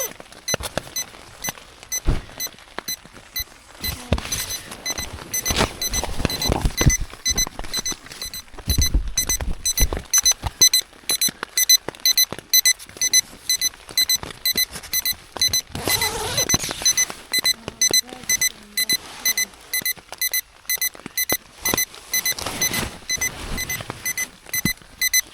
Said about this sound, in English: very thankful for the Otter Hill alarm there